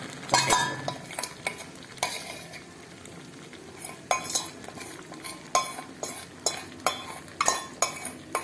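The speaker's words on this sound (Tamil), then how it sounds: "இதை மசிச்சு விட்டுக்கணும்." A spoon mashes and stirs cooked white beans with jaggery in a pan, giving repeated scraping clinks and soft thuds at a steady, close, fairly loud pace with no talk.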